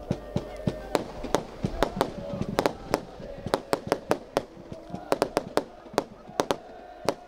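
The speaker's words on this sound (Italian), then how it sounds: "Fuochi d'artificio dei tifosi di casa." Fireworks set off by home supporters at the start of a regional football match between Real Sant'Agata and Città di Rossano: a rapid, irregular series of sharp bangs and crackles over a steady crowd murmur.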